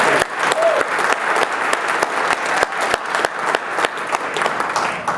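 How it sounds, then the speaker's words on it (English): Steady audience applause at a community event, sustained clapping with sharp individual claps standing out, with a brief voice heard in the middle. "Can we give Julian another round of applause?"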